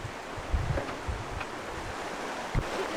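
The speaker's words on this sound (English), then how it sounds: "Waterfall." A mountain waterfall in Switzerland gives a soft, steady rushing wash, while gusts of wind thump against the microphone now and then.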